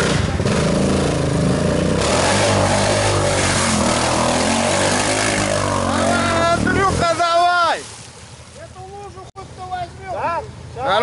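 A 250cc motorcycle engine revs loudly and accelerates for several seconds. It then drops away as excited voices shout up close.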